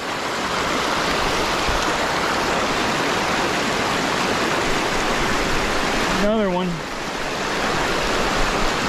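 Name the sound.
waterfall flowing by a river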